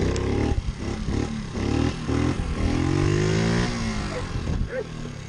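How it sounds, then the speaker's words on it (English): A pit bike engine revs and roars up and down in rising, falling pulls during a wheelie attempt, loud and close, with a brief voice partway through. "See if we can pull a wheelie."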